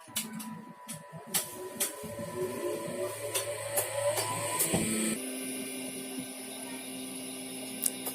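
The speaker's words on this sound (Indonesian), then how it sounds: "Oke, sekarang kita hidupkan mesinnya." An embroidery machine starts up and runs, giving quick repetitive mechanical clicks and a whirring motor hum at moderate volume. A tone shift partway through suggests a change in stitching speed.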